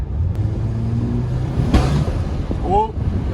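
A turbocharged 2020 Audi A3, fitted with new charge pipes, revs under light boost near the microphone. A rumbling engine note swells and falls with a quick whooshing burst partway through, and a voice talks over part of it.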